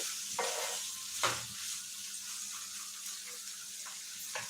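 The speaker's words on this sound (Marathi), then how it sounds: "तेलामध्ये आपल्याला छान असं फ्राय करायचं आहे बटाटे" Raw potatoes frying in hot oil give off a steady broadband sizzle, broken by a few brief louder stirring scrapes, with no voices over it.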